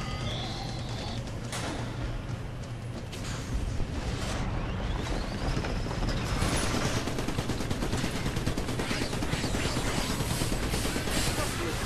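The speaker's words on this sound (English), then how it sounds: "that's why you see now, though, you'll see machine guns on both sides" Machine gun fire in the video game Trenched, with dense continuous rattling bursts and booming impacts layered over a constant roar of battle noise throughout.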